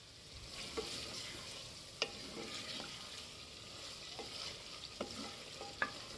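Beef with spices being stir-fried in a pot for Chinyoti kunna: a quiet, continuous sizzle with a few sharp scrapes and clicks of a spoon stirring at irregular moments, no voices.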